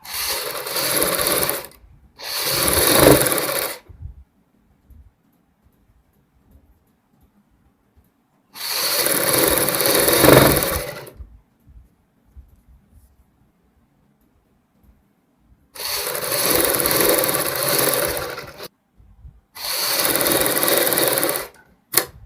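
A sewing machine stitches the front neck of a kurti in several separate runs of steady mechanical whirring, each lasting a few seconds, with near-silent pauses between them.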